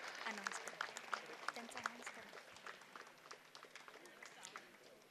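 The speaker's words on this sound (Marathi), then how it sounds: "एकदा जोरदार टाळ्या होऊन जाऊ द्या." An audience at an annual sports prize-giving ceremony claps in a busy ripple of scattered hand claps, fairly distant and steady, with a voice speaking over it.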